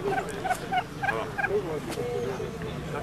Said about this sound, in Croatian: To je zagorski puran.